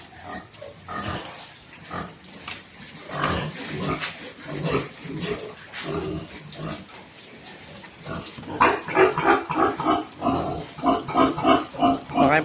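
Pigs feeding in a pen at a small pig-raising farm, with busy grunting, snuffling and chewing throughout that grows louder and denser toward the end, close up, with no one talking.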